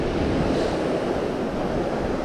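Sea waves at high tide wash onto a beach in a loud, continuous surf roar with wind buffeting the microphone and no voices.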